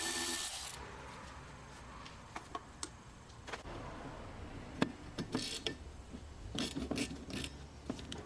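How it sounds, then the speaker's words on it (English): A 15mm socket ratchet loosening the wiper arm nuts on a Chevrolet Cruze, with scattered sharp metallic clicks and clunks over quiet background, growing busier toward the end. "you're going to use a 15mm socket to loosen the nuts and then remove the arms."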